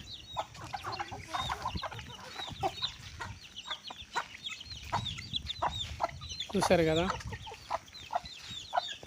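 Chickens cluck and squawk repeatedly nearby, with one louder drawn-out call, while a person speaks briefly over them.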